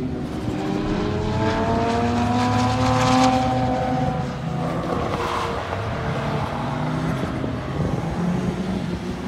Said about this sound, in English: you're probably hearing a lot of race cars in the background